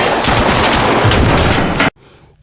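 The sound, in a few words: gunfire in an action film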